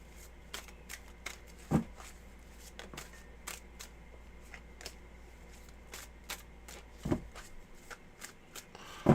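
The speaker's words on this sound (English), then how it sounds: "So let me do a cleansing shuffle for you." Tarot cards are shuffled in a quiet room, giving repeated crisp riffles and soft flicks, with a few sharper taps and knocks of the deck between them.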